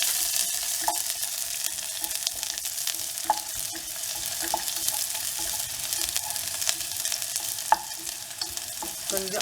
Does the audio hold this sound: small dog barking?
no